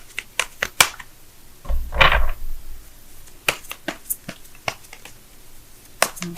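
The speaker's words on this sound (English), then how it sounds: "let me go ahead and shuffle right fast" Tarot cards shuffled quickly by hand, a run of sharp riffling snaps and soft flutters at an uneven, hurried rhythm, close and clear with no talking.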